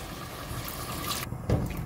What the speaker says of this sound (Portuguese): Vou acrescentar mais água.